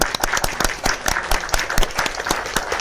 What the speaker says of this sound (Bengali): সবাই তিনজনের জন্য জোরে একটা হাতে তালি হবে